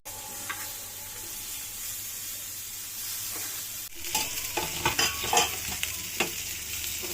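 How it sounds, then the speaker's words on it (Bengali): Fish frying in a pan at home, a steady close sizzle throughout with clinks and scraping of a utensil as the pieces are lifted out in the second half. "মাছগুলো সম্পূর্ণ ভাজা শেষ এখন উঠিয়ে ফেলছে আম্মু"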